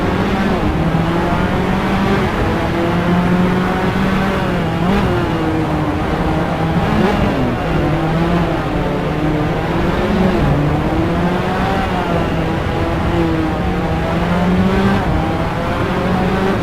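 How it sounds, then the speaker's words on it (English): Race cars lap the Magione circuit in a simracing game, a continuous high engine whine rising and falling with gear changes and several cars close together, holding at a steady loud level throughout. "Sale now attacking Ken Hunter for Extreme Racing."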